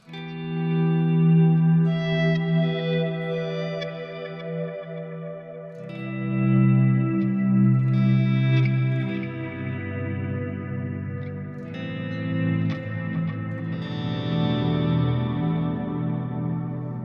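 Ambient electric guitar swells drift in slowly, layered with delay and echo that multiply each note into a lush, washy sustained texture.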